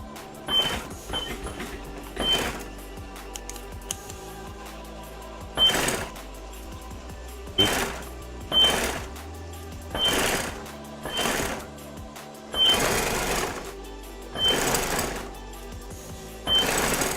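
A sewing machine stitches piping for car seat upholstery in repeated bursts of whirring, roughly a dozen short runs separated by brief pauses, close and clear with no talk.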